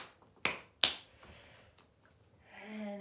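Two sharp, close hand claps in quick succession during a calm morning chi exercise routine, followed by quiet and then a soft sustained tonal hum.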